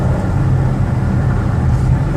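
A 2017 Dodge Caravan wheelchair-accessible minivan under acceleration on a highway, a loud, steady low engine drone with road rumble inside the cabin, unbroken for the whole stretch and without talk.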